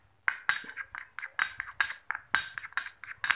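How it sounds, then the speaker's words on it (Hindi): A spoon stirs a homemade face cleanser of tomato, lemon juice and honey in a bowl, giving a steady run of quick, close clinks and scrapes against the dish, with no talking. "शहद मिलाने के बाद में अब इसे थोड़ा मिक्स कर लें।"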